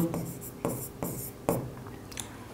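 Pen writing by hand on paper, close scratchy strokes in short bursts with brief pauses between them.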